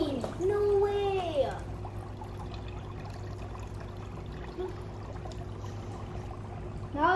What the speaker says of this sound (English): we're gonna open the water pumper. Hope it works.